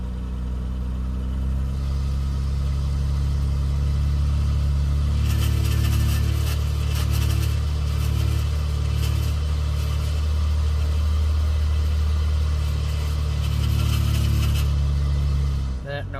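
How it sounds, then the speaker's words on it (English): A 1998 Honda Accord 3.0 V6 idles with a steady low engine drone, some faint ticking or clicking running through it, and a brief burst of higher-pitched clatter partway through. "now that I started the car, there's this clicking noise that wasn't there before"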